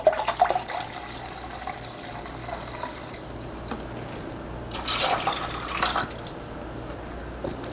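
Brewed soy sauce is poured into a pot while making a seaweed stem dish, giving a steady liquid splash and trickle over a low kitchen hum, with a few brief clatters and a louder gush partway through.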